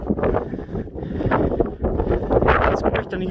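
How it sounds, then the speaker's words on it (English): Strong wind gusts across the crater rim of the Northern Eldborg volcano, on an April day with some snow, roaring and buffeting the microphone loudly and continuously, with brief lulls, and no talk. "Lots of wind today, there's some snow."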